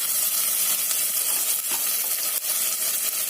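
Food fries in a pan while pulao is being cooked, giving a loud, continuous sizzle and hiss that runs unbroken from start to finish with no voices over it.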